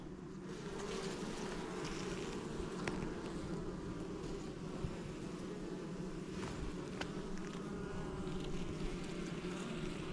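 Dense, steady buzzing of many active honeybees at an open hive, a constant low drone with no talking, moderately loud and close.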